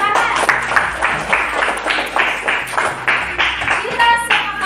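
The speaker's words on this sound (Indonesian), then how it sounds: "Tepuk tangan." A classroom of students claps together in rhythmic, distinct bursts, close and fairly loud, with a few voices mixed in among the handclaps.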